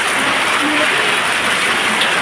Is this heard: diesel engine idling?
no